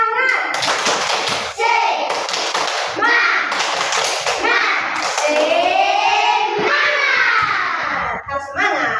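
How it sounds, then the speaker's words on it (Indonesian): Schoolchildren in a second-grade primary classroom perform a rhythmic clapping chant, voices and claps mixed in loud bursts with short pauses, a teacher's voice leading among them. "kita tepuk semangat dulu. Tepuk semangat."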